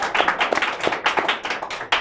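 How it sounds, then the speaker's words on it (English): An audience at a live event applauds with a run of sharp, close claps in a loose rhythm, crisp and moderately loud, ending in a final burst. "Give her a round of applause."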